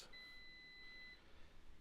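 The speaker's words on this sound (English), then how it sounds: "that's the alarm for the food" A food timer alarm goes off while chicken roasts cook, a thin steady electronic beep holding for about a second over a faint room hiss before cutting off, fairly quiet and with no talking.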